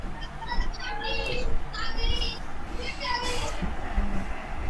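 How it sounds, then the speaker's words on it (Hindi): Children playing noisily in the background, their shrill voices and shouts rising and falling steadily throughout while someone talks over them in Hindi during a class lesson. "ये बच्चों का शोर कैसे आ रहा है भाई पीछे से,"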